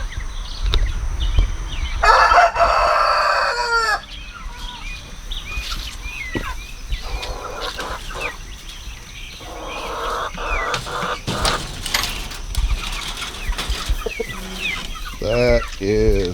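Buff Brahma chickens, three pullets about three months old, cluck and call in a free-range yard near a new coop, with short bursts of bird vocalizing scattered across a steady outdoor background.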